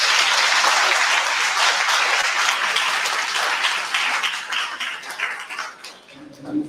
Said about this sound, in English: But let's applaud them for a second.